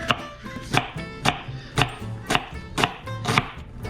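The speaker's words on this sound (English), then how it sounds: "You take your onion and you make these cuts beforehand so that when you really start to get into it, your onion doesn't fall apart." A knife chops an onion on a board in steady, evenly spaced strikes, about eight crisp close thuds with quiet gaps between them, heard alone without talk.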